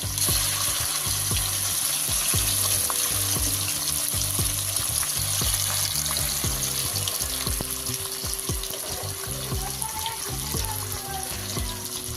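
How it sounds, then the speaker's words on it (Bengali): Hilsa fish pieces fry in a pan with a dense, continuous crackling sizzle that holds loud and steady throughout, broken by small spatters and faint clicks. "ইলিশ মাছগুলো হালকা করে ভেজে নেবো"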